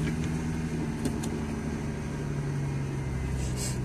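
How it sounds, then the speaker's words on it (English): A 1999 Ford Mustang V6 idles with a steady low mechanical hum and hiss, close by and even throughout, with no clear start-up crank audible. "I'm going to start the engine."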